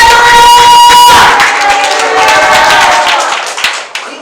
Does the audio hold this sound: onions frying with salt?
no